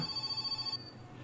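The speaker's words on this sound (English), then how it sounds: "because the phone rings and always pisses me off" A telephone rings in the video game My Summer Car, a quiet electronic bell sounding in rapid repeated pulses for under a second and then cutting off abruptly.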